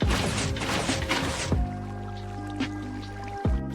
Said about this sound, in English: we can finally put our water buckets along each of the observers